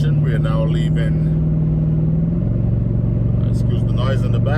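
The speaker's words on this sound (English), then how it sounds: "excuse the noise in the back, that's the exhaust." A low, steady truck exhaust drone rumbles throughout while someone talks over it inside the truck, the engine pitch shifting slightly midway.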